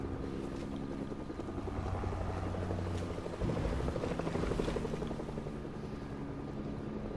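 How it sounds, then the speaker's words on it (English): Helicopter in Fortnite hovering directly overhead, a steady loud rotor drone with a rhythmic chop that swells slightly midway, continuous throughout with no talking. "This helicopter is not leaving us alone."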